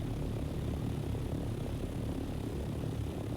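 Steady droning engine and propeller whir of a basic aluminum copter in a video game, a constant fairly faint hum with no variation and no talking.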